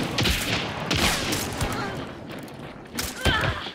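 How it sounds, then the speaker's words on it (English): A flash bomb goes off in a first-person shooter video game amid bursts of gunfire-like blasts and thumps, with players talking over the action. "Nice! The flash bomb."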